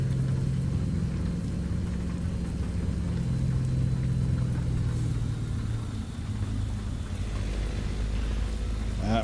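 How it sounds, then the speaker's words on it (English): A Peterbilt 388 wrecker's engine in a trucking video game gives a steady low rumble with exhaust note. It runs continuously at a fairly even level, with a slight dip and change partway through. "I like the sound of this engine."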